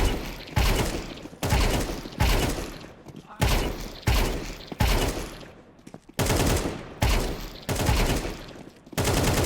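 Counter-Strike gunfire comes in repeated short bursts while the player strafes, about a dozen loud, close volleys in a steady rhythm, each followed by a brief pause.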